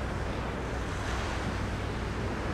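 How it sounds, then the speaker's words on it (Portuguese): Wind blows through a stone tomb in a Tomb Raider game, a dense, continuous whooshing rush that fills the space with low rumble and airy hiss and never lets up. "Por que tá vindo vento aqui?"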